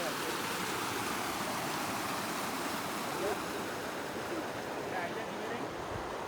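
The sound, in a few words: Mullai Periyar river water flowing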